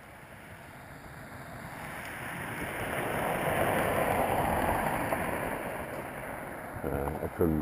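A car passes along a road on a freezing 19-degree November morning, its hum swelling steadily to a peak midway and easing off again beneath constant wind rush, with a brief rustle near the end.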